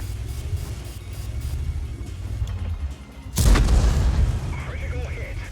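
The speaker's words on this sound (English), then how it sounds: "I penned the roof of his tank with HE" A World of Tanks tank cannon fires an HE shell, a single loud booming blast that rings out over the engine rumble and then fades, with a voice talking around it.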